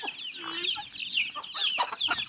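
Chickens of a small breed cluck repeatedly on a farm in Camaçari, Bahia, with short calls overlapping at close range and no talk.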